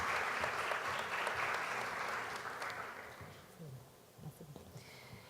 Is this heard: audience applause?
yes